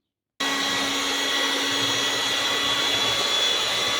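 After a brief silence, an electric mixer starts and runs with a steady, loud motor drone while beating cake batter of sugar and eggs for an economical cake.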